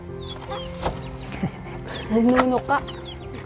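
Chickens cluck and murmur close by on a yard with a mango tree, short clucks and a drawn-out squawk scattered over a low background hum, while a person speaks briefly.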